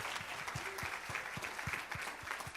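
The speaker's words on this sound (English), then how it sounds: "Could we have a little bit of applause for Courtney?" Audience applause at a church workshop, a steady crowd of clapping with a few individual claps standing out in a loose rhythm close by, continuous without talk.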